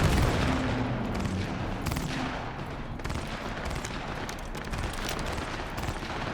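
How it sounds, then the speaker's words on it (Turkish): Dense, continuous gunfire from a shootout in the Cyberpunk 2077 video game, with rapid overlapping shots and bursts filling the whole stretch at steady, loud volume, no talk. "Oo, burada çatışma varmış gençler."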